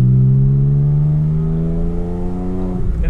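A straight-piped Porsche 911 engine drones loud and close, its pitch climbing slowly under light throttle before a brief rough change near the end, with no talking.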